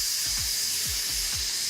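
Steam hisses from a hot pot of cooked octopus, a loud continuous airy rush with a few low thumps beneath it.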